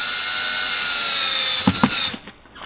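A power drill motor runs steadily driving a screw into an electrical box during an outlet move for a window installation, a loud continuous whine that ends in a few ratcheting bursts as it tightens and stops.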